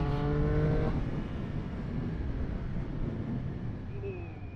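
A Triumph Speed Triple motorcycle engine revs up loudly, then settles into a steady, throaty drone that holds on without pause.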